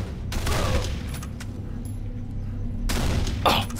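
Trench shotgun blasts in the game Condemned: Criminal Origins, two loud broadband booms about two and a half seconds apart, each trailing off into a rumbling tail, with no talking.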